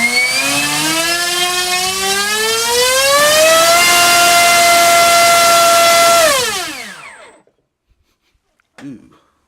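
An NTM Rotordrive 1220kv 600 series brushless motor spins up on a test bench, its whine rising steadily in pitch, holding loud, then winding down and fading away, followed by a brief faint blip.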